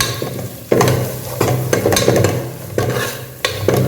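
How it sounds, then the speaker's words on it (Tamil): Masala spices with turmeric fry in hot oil in a pan for egg curry, a steady close sizzle broken by several loud stirring scrapes of a spoon against the pan. "இந்த எண்ணெயில் கொஞ்சம் மசாலா கொஞ்சம் வதங்கட்டும்"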